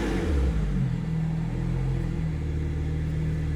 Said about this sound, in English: let's do a little bit of a rev